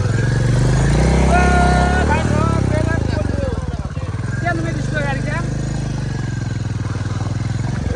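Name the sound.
motorcycle engine revving in water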